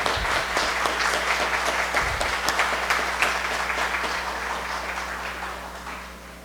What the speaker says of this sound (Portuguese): saudar o palestrante com a salva de palmas pelo encerramento da palestra